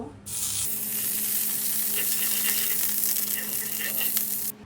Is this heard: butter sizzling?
yes